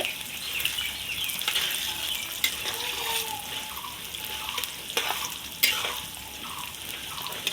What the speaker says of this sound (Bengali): ওই ফোড়ন তেলের মধ্যে দিয়ে দিচ্ছে মুগ ডাল। একবারে ফোড়ন দিয়ে ডালটা ভেজে নেবে। দেখো, এই যে ডালটা ভাজা হচ্ছে।